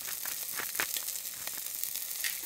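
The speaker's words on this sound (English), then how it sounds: "Okay, the pan is hot, we put the shrimp on the pan." Shrimp frying in butter in a hot pan aboard a boat in the Alaskan wilderness, giving a steady close sizzle with crackling pops throughout, no voices.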